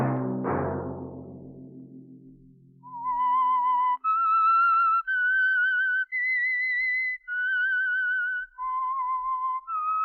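A signature whistled melody from The Whistler, Signal Oil's radio program, rises as a clean solo tune of sustained pitched phrases after a low musical chord fades, sounding close and alone.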